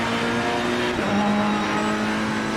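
A race car in Assetto Corsa Competizione laps on warm tires, its engine a loud, steady sustained drone with a brief pitch dip around a gear change, continuous and alone without voices.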